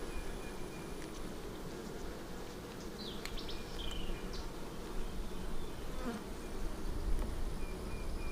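Honey bees hum in a dense, continuous drone during an open beehive inspection, with a few individual bees buzzing nearer and louder over the steady swarm sound.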